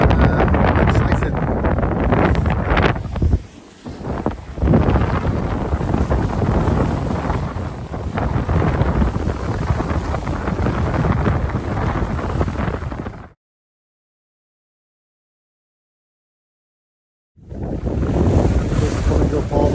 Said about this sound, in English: Conditions, quite heavy seas and strong wind, very gusty